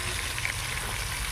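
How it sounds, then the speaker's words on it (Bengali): Bhangor fish frying in hot oil in a wok, a dense, steady sizzle and crackle that fills the whole moment with no voice over it. "মাছগুলো সব ভাজা হয়ে গেছে লাল লাল করে, আমি তুলে নিচ্ছি।"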